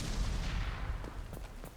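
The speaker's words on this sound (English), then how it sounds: "That was a massive explosion." Sci-fi shooter game combat from Mass Effect: a deep rumbling explosion and a rapid volley of gunfire, booming and muffled, fading into scattered shots toward the end.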